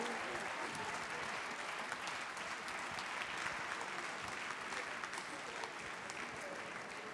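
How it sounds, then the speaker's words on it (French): Live audience at a cooking competition applauds the contestants in a sustained, even wash of many hands clapping, heard from a distance with a faint murmur of crowd beneath. "Allez, on les applaudit."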